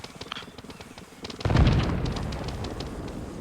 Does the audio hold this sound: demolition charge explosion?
yes